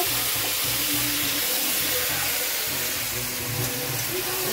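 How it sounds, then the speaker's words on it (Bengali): Young jackfruit, potato and onion frying in a pan, giving a dense, steady sizzle and hiss that stays loud and even throughout, with faint clinks and stirring underneath and no voices. "এই এঁচোড়ের আলু পেঁয়াজটা কষাতে দিলাম"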